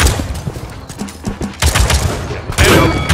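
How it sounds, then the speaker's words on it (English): Rapid bursts of enemy gunfire in the online shooter Paladins, loud and close, with dense overlapping shots and a heavier volley near the end. "Enemies are firing on me"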